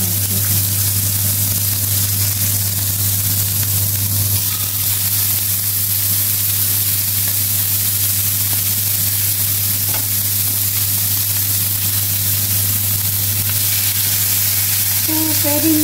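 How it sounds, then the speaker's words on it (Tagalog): Chicken frying in a pan for a ranch chicken salad, giving a steady, close broadband sizzle that holds for the whole stretch under a constant low electrical hum, with no talk. "niluluto natin yung chicken"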